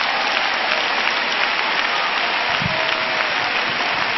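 A church congregation breaks into loud, sustained applause to welcome a preacher, a dense, steady wash of clapping from a large crowd that fills the whole stretch with no voices standing out.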